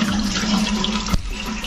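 Water runs steadily from a household tap into a container, a continuous close gushing flow with one brief knock near the end.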